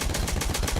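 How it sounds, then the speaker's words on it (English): Rapid automatic gunfire from a Battlefield 6 multiplayer match: a fast, evenly spaced burst of about eight shots in under a second, loud and close. "I think we're being shot at."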